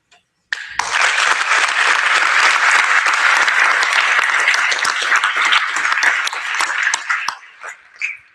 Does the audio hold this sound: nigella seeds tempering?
no